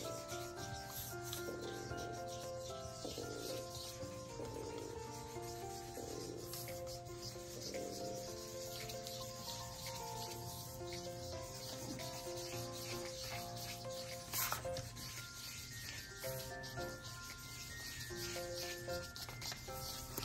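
A Crayola Mess Free marker rubs across coloring paper in repeated squeaky, screechy strokes, quiet and close, over a faint steady background hum.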